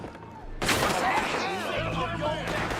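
A burst of gunfire from the video game Red Dead Redemption 2 crashes in loudly and rolls into a sustained, echoing barrage of overlapping shots, with a voice speaking over the clamour.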